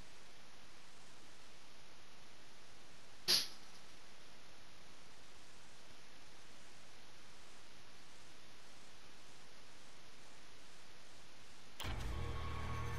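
A pet dog gives a single sharp sneeze indoors, a brief burst standing out once against a steady background hiss, with no one talking.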